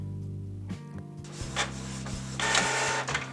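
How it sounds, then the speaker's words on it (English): A printer runs with mechanical whirring and rhythmic clunks, its carriage noise swelling and easing over a steady motor hum, close by. "this is my printer"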